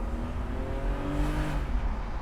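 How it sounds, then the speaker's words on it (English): A BMW E36 M3 with an inline-six engine accelerates on a highway, its engine note a steady, close, rising drone under heavy road roar, with no talking. "Inline 6 kicking there."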